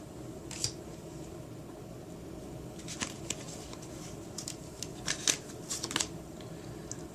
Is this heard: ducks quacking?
no